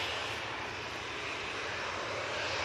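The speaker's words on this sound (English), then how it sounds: "Nice wide turn there from the 737." A Boeing 737's jet engines during a wide turn near an airport, a steady broad roar that holds evenly and rises slightly at the end, heard alone without voices.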